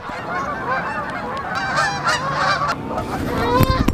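Geese honk repeatedly in a park, a busy overlapping flock of loud, close calls that continue throughout over steady outdoor background noise.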